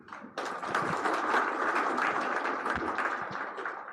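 A graduation ceremony audience claps steadily for a few seconds, a dense, even wash of many hands at moderate loudness with no voices over it.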